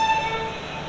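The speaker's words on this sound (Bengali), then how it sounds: "আর হর্ন দিয়ে দিয়েছে, এক্ষুনি ছেড়ে দেবে এই স্টেশন থেকে ট্রেন" The Sinhgad Express sounds its horn while departing a station between Pune and Mumbai, a single loud, steady tonal blast that fades slightly over a brief moment.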